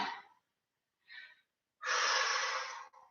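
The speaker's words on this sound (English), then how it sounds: "if you breathe in and then out" Breathing exercise in a Fit for Life class: one quiet breath in, a short second breath, then a long, louder exhale, close and soft with no talking.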